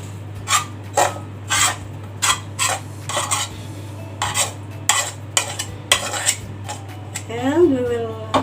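A spoon scrapes and pushes cooked beef across macaroni noodles in a baking dish, making a series of short, distinct scraping strokes at an uneven pace, with a faint murmur near the end.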